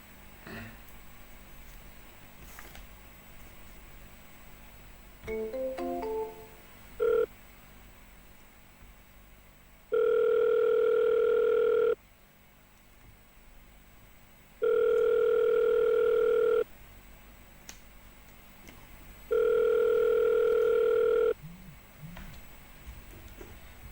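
Telephone ringback tone during an outgoing cold call, three long evenly spaced rings of about two seconds each, loud and clear, preceded by brief dialing tones and faint background noise.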